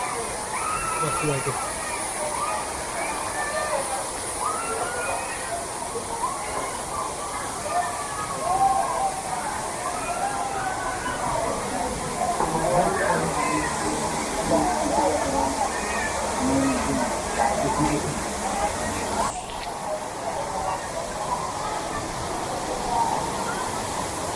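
Savdav waterfall in Konkan's Kankavli area roars steadily and close by, a dense rushing wash of falling water that never lets up, with faint voices mixed into the spray.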